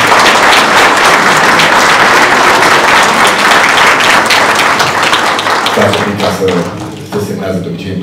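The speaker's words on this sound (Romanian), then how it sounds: "Cred că merită aplaudat momentul." Loud, sustained applause from an audience at a protocol signing ceremony for the business community, dense clapping that fades near the end as a voice starts speaking.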